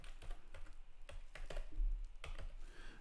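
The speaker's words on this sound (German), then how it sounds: "Klickst die Enter-Taste." Typing on a computer keyboard while setting up an HTML web page, with quick irregular clusters of key clicks and a firmer keystroke that fits pressing Enter, close and clear with no talking.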